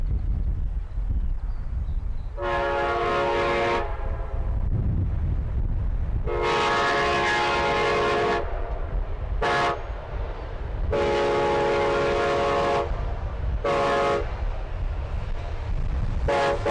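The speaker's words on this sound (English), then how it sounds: "we'll see Amtrak's westbound Cardinal passing these same signals as it heads towards Lafayette and Chicago" Amtrak westbound Cardinal passenger train approaching and passing, its horn sounding in a pattern of long blasts, a short toot, then another long blast and a short toot, loud and close over rumbling wheels.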